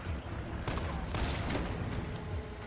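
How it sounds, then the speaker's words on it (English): Resident Evil 3 Remake handgun fire at slow zombies climbing through windows: a few sharp shots ring out over a steady background of game ambience, moderately loud and spaced apart. "while the zombies are just climbing through the windows very slowly, we're just utilizing the handgun here"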